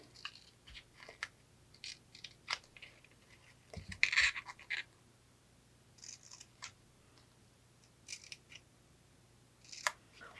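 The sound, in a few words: scissors cutting tabs of a mini doll box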